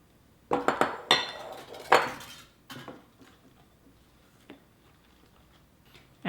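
A sturdy spatula or spoon working thick dessert batter in a bowl, a series of sharp scraping clinks and knocks in the first few seconds, then fainter, sparser taps with quiet gaps.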